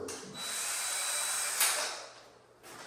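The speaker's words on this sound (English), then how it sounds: "Take this drill." A power drill whirs steadily at close range for about two seconds, then winds down, with no voices.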